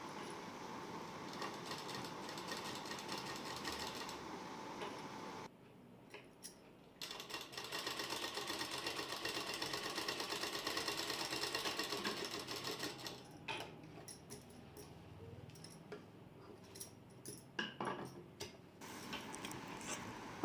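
A sewing machine stitches a baby suit in rapid, steady, clattering bursts with brief pauses between runs, close and fairly quiet, with no voices.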